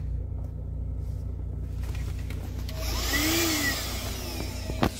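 A Voroly 5000PA handheld car vacuum cleaner, plugged into the charging socket, whirs with a steady motor hum inside a car, rising into a louder, airy suction whine partway through.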